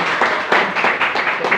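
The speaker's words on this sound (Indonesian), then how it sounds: "Tepuk tangan buat dia." Audience applause at a prison gathering, a brief burst of steady, close clapping with no speech.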